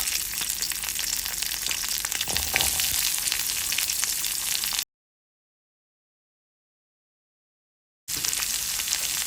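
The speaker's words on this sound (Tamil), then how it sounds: "பொடியா நறுக்கி வச்சிருக்கிற சின்ன வெங்காயத்தை சேர்த்துக்கலாம்" Oil sizzles and crackles steadily as chopped shallots fry, loud and close, interrupted by a few seconds of silence before resuming.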